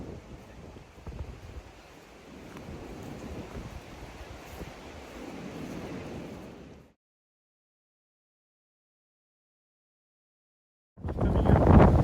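Strong wind rushes over the Appalachian Trail in a steady, gusting roar that suddenly cuts to silence and comes back loud near the end, with no talking.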